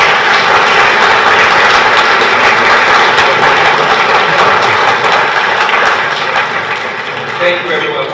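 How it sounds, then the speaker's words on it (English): A reception audience applauds Monsignor O'Grady in a steady, loud wash of clapping that runs throughout and thins slightly toward the end. "One more round of applause for Monsignor Father O'Grady."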